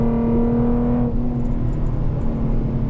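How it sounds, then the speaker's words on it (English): A tuned Ford Mustang 3.7 V6 engine revs loudly with a strong droning tone, then the pitch drops as if shifting gears and keeps pulling under a steady roar, heard from inside the car. "it's got to be probably one of the best sounding V6 motors that any manufacturer can make"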